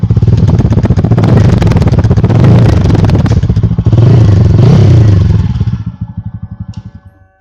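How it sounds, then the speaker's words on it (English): A TVS Apache RTR 200 4V motorcycle engine revs hard nearby in loud repeated bursts, then drops back and fades toward a low idle. "I can even rev it up harder."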